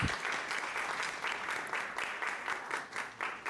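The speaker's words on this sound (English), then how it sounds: "Let's give them a clap, please." An audience at a youth financial forum breaks into applause, a dense, even clapping that pulses slightly and carries on throughout without speech over it.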